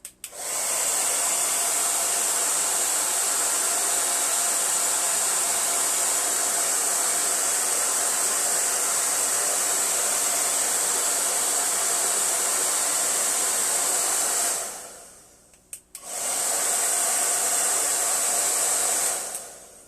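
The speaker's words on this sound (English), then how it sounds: "if you cannot wait, all you have to do is use your blower" A hair dryer used as a blower to dry watercolor paint roars loudly and steadily close by, cutting out briefly near the end before starting up again, with no talking.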